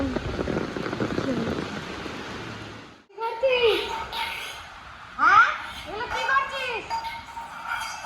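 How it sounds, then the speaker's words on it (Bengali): Heavy rain pours down steadily for the first three seconds as a dense, loud wash; then it drops away and children talk and chatter nearby for the rest. "বৃষ্টি থামার নামই নেই। প্রচণ্ড।"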